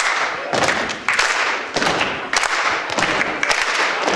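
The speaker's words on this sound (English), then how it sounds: "So could y'all just clap for me? Just like boom clap." An audience at a college entrepreneurial club kickoff event claps together in a steady boom-clap beat, the group strikes landing in a regular pulse across the room, loud and fairly close.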